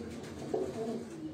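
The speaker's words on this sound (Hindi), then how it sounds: "ये जितने भी कबूतर आप देख रहे हैं" Caged pigeons cooing nearby, a short low throaty coo rising briefly and fading over about a second.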